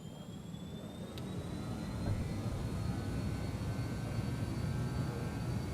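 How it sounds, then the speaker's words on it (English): Simulated BAe146-300 four-engine jet rolling for takeoff at full throttle in Microsoft Flight Simulator 2020, a steady low engine roar with a thin high whine that swells slightly and then holds even. "Full throttle, and there we go. Hopefully we will have a nice takeoff"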